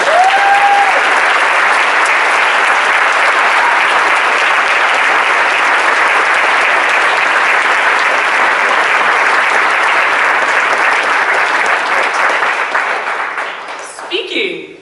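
Audience in a chapel gathering breaking into sustained applause, a steady dense wash of clapping lasting around twelve seconds before tapering off, with a voice speaking briefly near the start and again at the close.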